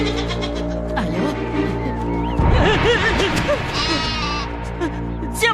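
A goat bleats repeatedly in a dramatized village scene, wavering cries close and loud over a humming musical background, with a voice briefly in the mix.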